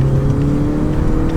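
A car engine on full nitrous oxide, part of a cheap £20 power upgrade, roars close and loud in a sustained hard acceleration, with a steady droning tone and no talking over it.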